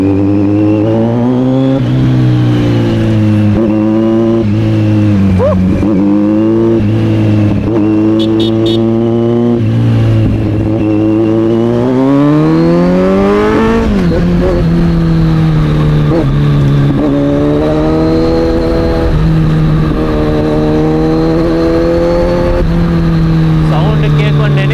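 A Kawasaki Z900 motorcycle engine revs and accelerates loudly and close by, climbing through gears with rising pitch and a brief drop before pulling again, steady and dominant throughout.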